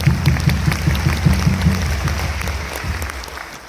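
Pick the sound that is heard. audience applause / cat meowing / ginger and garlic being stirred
audience applause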